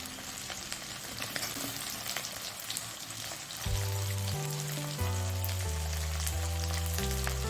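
Garlic and chopped onion frying in oil crackle with a dense, close sizzle, and stirring in the pan adds scraping with a low rhythmic hum running underneath.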